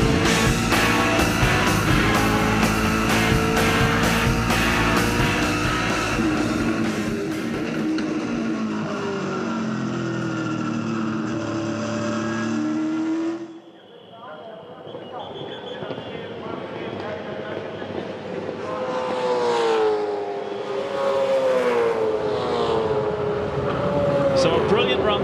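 V8 Supercars race at the 2006 Desert 400, engines roaring loud and close with pitch sweeping up and down as cars pass, under steady commentary.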